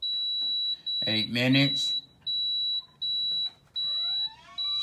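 A Power XL air fryer gives a steady high electronic tone with short beeps as its timer is set on the grill mode, heard close and loud, interrupted by gaps, while someone talks over it.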